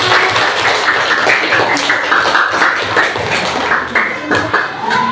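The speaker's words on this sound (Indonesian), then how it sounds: "Luar biasa, tepuk tangan" Steady, dense clapping from a classroom audience applauding a group presentation, loud and continuous for the whole stretch with no break.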